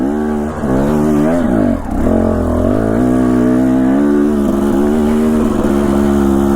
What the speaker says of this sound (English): dropping the RPMs way down to make sure I maximize traction